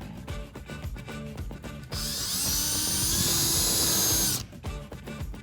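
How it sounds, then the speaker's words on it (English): A power drill whines at high speed for about two and a half seconds, boring a small hole through a Mustang bumper, close and loud, with a rustling background before and after. "I have to drill a small hole a couple inches from where the mounting tabs are"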